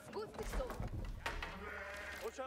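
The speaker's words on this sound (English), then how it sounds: "Look at all the sheep." Sheep bleating in the Age of Empires IV strategy game, several wavering calls over a dense battle and game soundscape, with someone talking excitedly over them.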